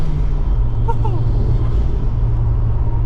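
Ford Escort Cosworth homologation road car with its turbocharged engine pulling on boost, a steady loud low drone from inside the cabin that holds throughout without a clear rise.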